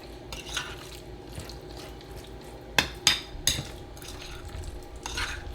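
Egg salad seasoned with ground pepper is stirred in a bowl. A few quick scraping, clattering strokes stand out, each about half a second apart, over a soft background, with no talk.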